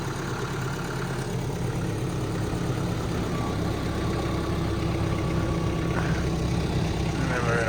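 A tractor engine idles at close range with a steady, unbroken low rumble and mechanical drone at an even level from start to finish.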